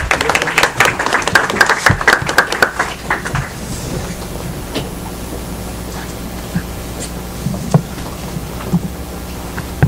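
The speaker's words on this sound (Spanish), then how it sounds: "Lo recibimos con fuertes palmas." An audience at a conference gives a short burst of clapping for a welcomed lecturer, sharp claps thick for the first three seconds and then thinning out into scattered taps over room noise.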